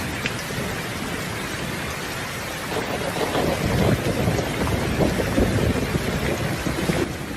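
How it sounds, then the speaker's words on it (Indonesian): Heavy rain pours steadily throughout, a dense broadband wash with faint low rumbling, loud and continuous with no voices, used as a storm effect in spoken story narration. "Singkat cerita, terjadilah hujan lebat."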